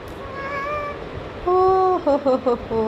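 A house cat meows several times: one long call, then a longer one followed by a quick run of short, clear meows, close by in a quiet indoor room.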